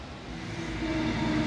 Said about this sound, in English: we have Waitoa A63 arriving at platform number 1 for Central Vice Rapid Service.